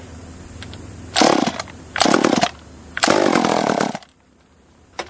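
A top handle chainsaw revs at half throttle in three loud, sustained bursts of roughly a second each, separated by short drops to a lower idle, then falls away to quiet near the end.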